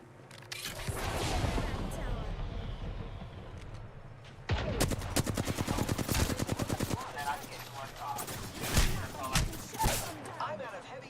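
Rapid video game gunfire rattles in quick bursts over a dense background of game effects, with a player talking throughout.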